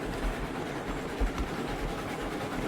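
A steady locomotive rumble in the video game RailRoads Online, with low, rolling engine drone and faint rhythmic clatter, continuous and moderately loud throughout, with no voices.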